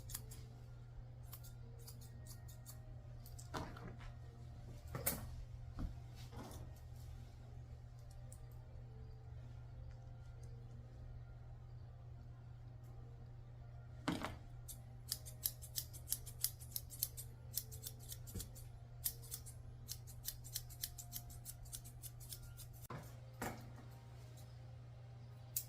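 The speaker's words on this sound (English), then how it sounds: "And my straight scissors to trim up her beard." Straight grooming scissors trim the beard of a Pomeranian mix, giving faint crisp snips close by: a few scattered cuts, then a quick rhythmic run of snipping, over a steady low hum.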